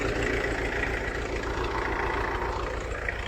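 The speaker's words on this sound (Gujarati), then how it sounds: "ટ્રેક્ટર કેમ ચાલુ કર્યું?" A tractor engine idles steadily close by, a constant low rumble holding even throughout with no speech over it.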